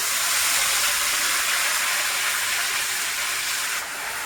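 White spinach leaves hitting hot oil in a pan set off a loud, close, steady sizzle, a bright hissing wash that continues evenly and eases slightly near the end.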